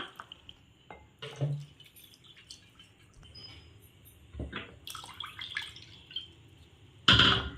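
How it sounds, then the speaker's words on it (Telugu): Cupfuls of water go into cornflour for Karachi halwa, heard as quiet, scattered splashes and drips with a louder pour near the end; no talking. "ఏ కప్తో అయితే కార్న్ఫ్లోర్ తీసుకున్నామో అదే కప్తో మనం వాటర్ యాడ్ చేసుకోవాలి"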